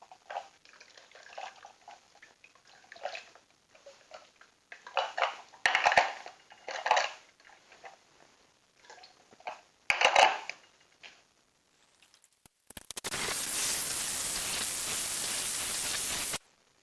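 Dry paper being ground, small scratchy crunching strokes in irregular bursts, close and fairly faint, followed by a few seconds of loud steady hissing noise.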